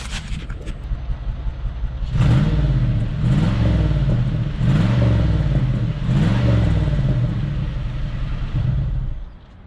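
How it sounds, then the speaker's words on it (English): A 2001 Cadillac DeVille engine, misfiring after a coil pack replacement, revs up and holds in several surging pulses, its idle rough and uneven with a rhythmic stumbling throb, recorded close. "But the car is skipping."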